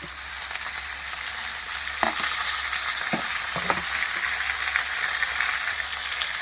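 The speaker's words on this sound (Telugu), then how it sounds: "ఫ్రై అయినాక మనం టమాటా వేసుకోవాలి" Chopped tomatoes fry in a pan with a continuous, even crackling sizzle over a low hum, marked by a few brief knocks of a spoon stirring them.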